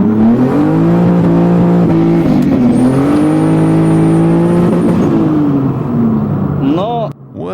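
A BMW E36 with a turbocharged M50B25 engine pulls hard in a loud, close interior drone, the revs climbing and dipping through gear changes in cold weather, with a short whine near the end.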